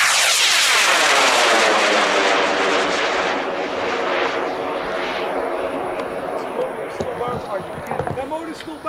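A rocket motor burns during a launch, starting as a loud, close roar that gradually fades as it climbs away into the distance.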